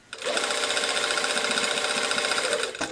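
A sewing machine stitches the lining of a jacket sleeve in one steady, fast continuous run, close and even in level, starting and stopping cleanly with no talk.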